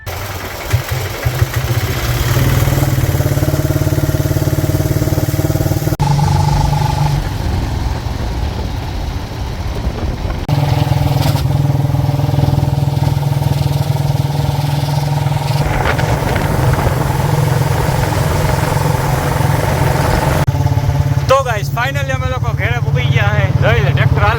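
A steady, close tractor engine chugs and idles throughout, loud and continuous, with people talking over it.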